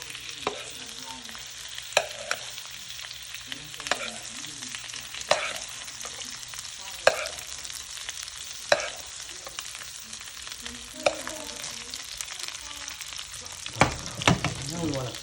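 A ribeye steak sizzles steadily in a pan while butter is spooned over it, with sharp periodic clinks and scrapes of the basting spoon against the pan roughly every one to two seconds.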